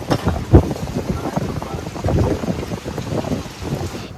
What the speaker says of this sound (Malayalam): ഷാർജയിൽ വീണ്ടും നല്ല മഴ തുടങ്ങി.